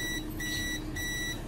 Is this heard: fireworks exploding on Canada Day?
no